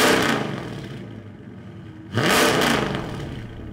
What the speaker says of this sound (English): And some revs with the headers.